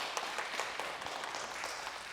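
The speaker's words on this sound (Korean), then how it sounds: "박수로 환영하겠습니다." A church congregation applauds to welcome a visiting family during a Sunday service, a steady wash of clapping from many hands filling the whole moment at moderate level, with no voices rising above it.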